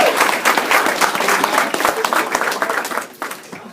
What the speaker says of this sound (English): Let's have a round of applause for this team.